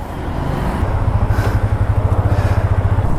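A Yamaha FZ25 motorcycle engine runs steadily and close, with a low, throbbing exhaust pulse that settles into an even, rapid rhythm for about three seconds.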